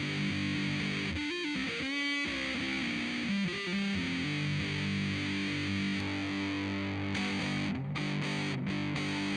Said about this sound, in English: That's just the 78 distortion.